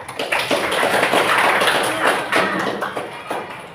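A classroom of students claps hands together in a sustained, fairly loud burst of applause lasting several seconds, with slight surges in rhythm.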